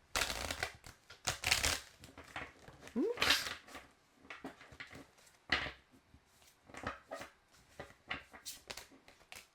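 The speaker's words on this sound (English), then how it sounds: "as I'm just doing my little shuffle" A deck of tarot cards being shuffled by hand at close range, in irregular bursts of riffling and soft card slaps with quiet pauses between.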